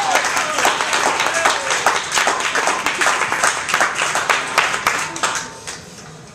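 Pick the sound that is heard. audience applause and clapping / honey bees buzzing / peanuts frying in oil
audience applause and clapping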